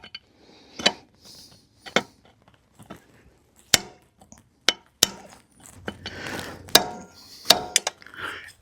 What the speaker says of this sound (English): I believe we've got the right tool to drive these broken studs out.